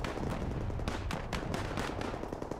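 Artillery shells and machine gun fire in the video game DigIn, a steady rumbling barrage of rapid shots and distant blasts, fairly quiet and with no talking.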